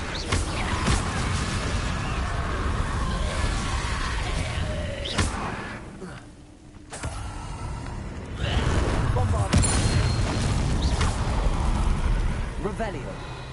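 A Confringo fire spell in Hogwarts Legacy on PS5 sets off several sharp explosive bursts over continuous game ambience, with a voice speaking at times.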